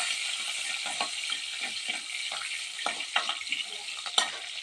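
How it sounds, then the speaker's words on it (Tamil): Green chillies and curry leaves frying in hot oil with popped mustard seeds and urad dal, a steady close sizzle with occasional crackles and spatula scrapes, no voices. "இப்போ வந்து நம்ம பச்சை மிளகாயும் கருவேப்பிலை ஆட் பண்ணிக்கலாம். ஃப்ரை பண்ணிக்கலாம்."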